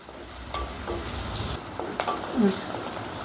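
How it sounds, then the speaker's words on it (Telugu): Chopped onions and green chillies sizzle in a pan while being stirred for a potato and cucumber masala curry, a steady close frying hiss with a few scraping stirs. "ఇప్పుడు ఈ ఉల్లిపాయ ముక్కల్ని మరీ ఫ్రై కాకుండా ఒక రెండు నిమిషాలు ఆ పచ్చి బాసన పోయేంత వరకు ఫ్రై చేసుకుందాం"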